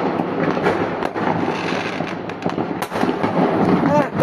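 New Year fireworks explode nearby in loud crackling bursts and sharp bangs that overlap into a dense continuous barrage, with voices heard among them.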